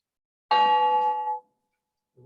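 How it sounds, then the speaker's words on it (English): A single bell sound effect rings out clearly in a Zoom meeting, its bright tone sustaining for about a second before cutting off, followed by a faint low sound. "I'm going to end the meeting with the sound effect bell."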